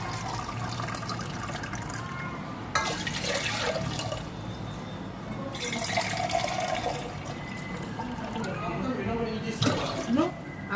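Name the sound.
pouring water into a pot for jelly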